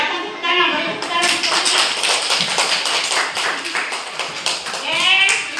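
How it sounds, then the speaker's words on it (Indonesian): A classroom group claps together after a presentation: dense, steady hand-clapping that fills the room close by and holds for several seconds, with brief voices rising at the start and end. "Silakan tepuk tangan, beri tepuk tangan."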